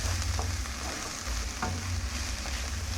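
Chicken and cabbage seasoned with soy sauce and black pepper sizzle steadily in a hot pan, with a constant loud crackle and occasional scrapes as the mixture is stirred.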